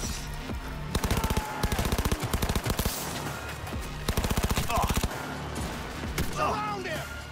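Shotgun gunfire in Cyberpunk 2077, with several loud bursts of rapid, clustered shots separated by short pauses over a busy, layered game soundtrack.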